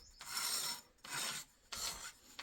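A locked differential axle on a solid-axle-swapped 4x4 lawnmower is spun by hand, giving three separate rasping, grinding bursts, each about half a second long, with brief quiet gaps between them.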